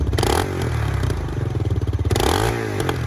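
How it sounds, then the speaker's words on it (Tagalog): A 650cc adventure big bike engine revs hard up close, throaty pulses rising and falling with a rapid, rattling exhaust beat that clatters between throttle blips. "650cc yan ha. Adventure bike."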